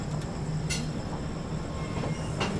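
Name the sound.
Mahabodhi Express train departing on the rails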